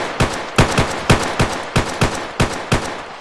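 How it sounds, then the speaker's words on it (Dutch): Gunfire in a video game police training roleplay, about nine sharp loud shots in a quick, slightly irregular rapid sequence, close and dry with no talk. "En dan moet je knallen."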